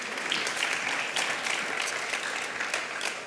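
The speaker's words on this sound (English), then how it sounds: "So please give yourselves a round of applause." A room of attendees at a leadership celebration applauds together in a dense, even wash of clapping that holds steady from start to finish at moderate loudness.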